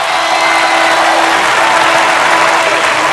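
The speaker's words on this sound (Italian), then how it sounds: "fategli un applauso" A concert audience at a live 1 May 1993 show gives loud, dense, continuous applause, a wall of clapping with crowd noise and no gaps.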